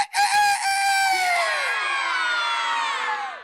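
A loud, drawn-out rooster crow imitated by a human voice, rising then trailing off over a few seconds, close and clear.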